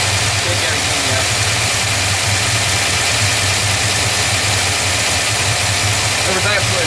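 A car engine with a Holley carburetor and bad spark plugs idles loudly and steadily with a rough, throbbing low rumble, close by and without a break.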